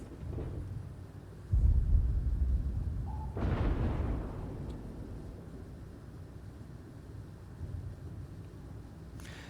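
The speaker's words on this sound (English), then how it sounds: "he's firing off his depth charges" Depth charges from a World of Warships destroyer detonate as two deep, rumbling underwater booms, a heavy low thud near 1.5 seconds and a second swelling blast around 3.5 seconds that fades into a long low rumble.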